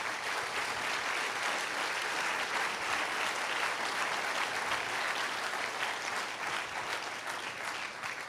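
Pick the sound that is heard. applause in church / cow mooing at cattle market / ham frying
applause in church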